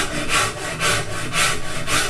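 A number 9 stitching modeling rasp shapes a wooden guitar neck, rubbing in about five even back-and-forth strokes, close and raspy with no talk.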